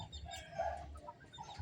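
Chickens kept on a rooftop, prized quality birds, clucking and calling softly at moderate distance in a short, continuous stretch with no talk.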